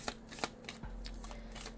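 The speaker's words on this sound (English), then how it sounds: "So I'm going to shuffle them around just a little bit here" A small deck of four affirmation cards is shuffled by hand, producing soft, quick papery riffles and flicks at close range in a quiet room.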